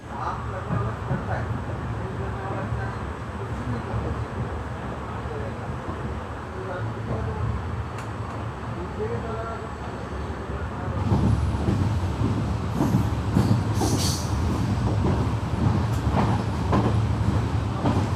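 A Jhalawar City–Shri Ganganagar express train pulls in at a station with a steady rumble and clatter of rail cars. The noise grows louder partway through, with a brief high squeal near the end, while someone talks over it.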